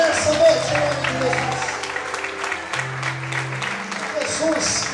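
A congregation claps in a Portuguese-language church service at night, a spread of hands behind a voice talking and sustained musical tones.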